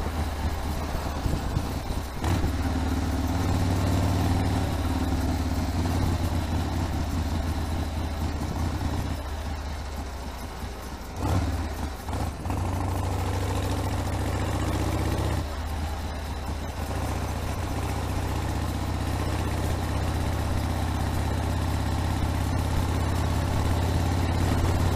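A 1979 Harley-Davidson Ironhead Sportster engine while riding slowly in top gear, a steady low rumbling drone with a brief dip in the middle, accompanied by wind noise.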